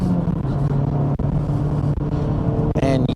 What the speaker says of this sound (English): Just throwing it into a corner right here.